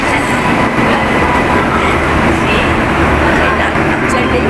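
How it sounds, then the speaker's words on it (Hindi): Long-distance train from Dehradun to Mumbai pulling into Haridwar station, a loud continuous rumble and clatter of rail cars close by. "देखिए ट्रेन आ गई है"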